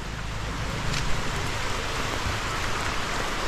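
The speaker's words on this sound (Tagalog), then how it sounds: "Ito po Ay grabe itong ulan na to" Heavy rain pours down outdoors in the Philippines, a dense, steady hiss of drops drumming on surfaces close by, with no voices over it.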